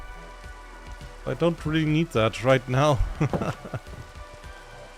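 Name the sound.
rain falling in Minecraft video game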